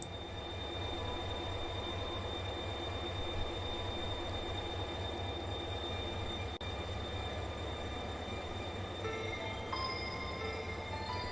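A ghostly train rumbles steadily in the detective adventure game The Darkside Detective, a continuous, even roar of rolling wheels with a thin high whine over it, heard alone throughout.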